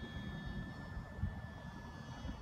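A HobbyZone Champ S RC airplane flies outdoors at a field, its small engine giving a steady faint whine with a thin tonal hum over a wind-rough background.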